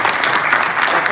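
Audience applause at a memorial ceremony, a short dense burst of clapping from a crowd, loud and close, heard alone.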